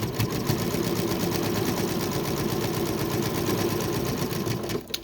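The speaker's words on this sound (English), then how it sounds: "we are going to sew straight across here" A sewing machine runs a straight stitch across a fabric sash, its rapid even needle chatter steady and close for nearly the whole stretch before stopping at the end.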